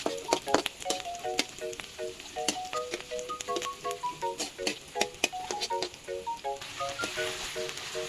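Sliced onion sautéing in oil left over from frying eggs in a pan, a steady crackling sizzle with stirring scrapes, overlaid by a tonal melody running through the whole stretch.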